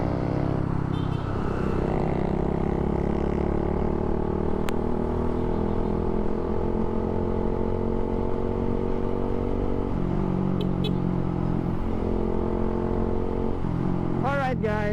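A motorcycle without lights riding by on a road, its engine a steady loud drone that holds throughout and rises into revving near the end, with no talking.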